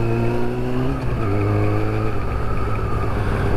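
A Kawasaki ZX6-R motorcycle revs hard on a lap, its high-pitched engine whine rising, dipping at a gear change, then droning steadily close by.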